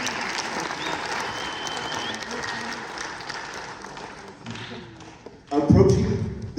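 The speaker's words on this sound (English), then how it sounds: "A warm round of applause for all of them." Audience applause after a mariachi master class at FESTIBA, many hands clapping steadily at moderate volume and slowly thinning, ending in a sudden close, loud thump and rustle near a microphone.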